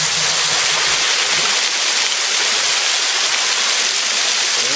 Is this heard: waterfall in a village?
yes